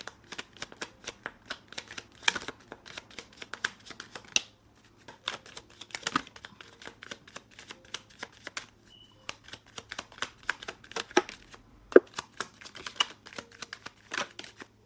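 A Pure Love Oracle card deck is shuffled in repeated quick riffling bursts, crisp and close, with a short pause partway through before the flicking resumes.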